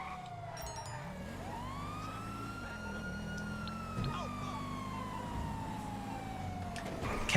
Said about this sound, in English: I got a free police car out of it